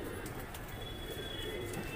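A male Deobandi pigeon coos softly and steadily close by over a low background murmur, with a faint high tone in the middle.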